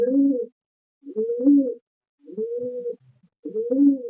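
Giribaz pigeons cooing up close, four rounded, throaty coos spaced about a second apart with silent gaps between them.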